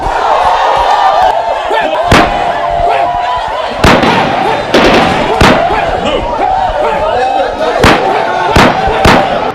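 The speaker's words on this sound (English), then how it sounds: "the trigger-happy soldiers of Captain Hill opened fire on the women" Soldiers open fire on protesting women during the 1929 Aba Women's Riot: loud, sharp gunshot cracks fire irregularly over several seconds against a churning background of crowd noise and voices.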